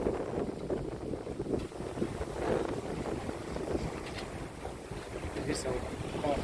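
A sailboat under way in about 12 knots of wind on the Mediterranean. Steady rushing wind and water noise fills the whole stretch, buffeting the microphone, with faint voices in the mix.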